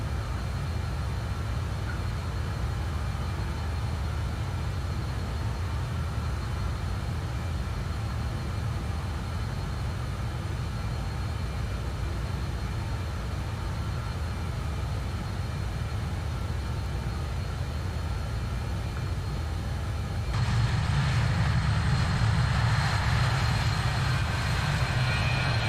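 Steady, loud drone of a BAe 146 airliner's jet engines in Microsoft Flight Simulator, a constant roar that swells and grows harsher near the end as power increases.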